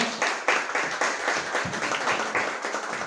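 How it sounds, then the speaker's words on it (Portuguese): Audience applause at a Brazilian literary academy gathering welcoming storytellers to the stage, a steady dense patter of many hands with faint voices mixed in, fairly close and even in loudness. "Vamos receber com a salva de palmas, por favor."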